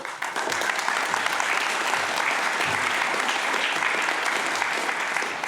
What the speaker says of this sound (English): Round of applause for Bhojraj.